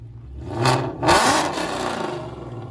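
An 850 hp Procharged Ford Mustang 5.0 with long-tube headers and straight pipes revs up twice in quick succession. The two loud, sharp bursts rise close by and fall back to a rumbling idle.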